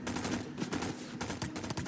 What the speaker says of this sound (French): il y a quelqu'un qui essaie de me tirer dessus